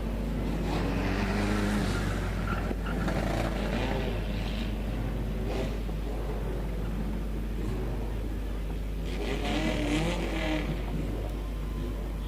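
Stock cars racing around a circuit at a regional race, a steady distant drone of engines with passing cars swelling and fading, heard under a continuous low hum.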